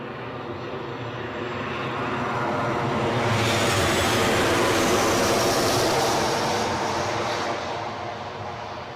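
A Jet2 Boeing 737-800 arriving from Ibiza at Newcastle airport passes with a broad engine roar that swells to a peak midway, then slowly fades.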